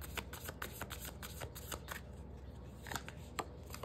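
Tarot cards are shuffled by hand in quick, rhythmic riffling bursts with crisp papery flicks, close-up and steady, a few sharper snaps standing out near the end.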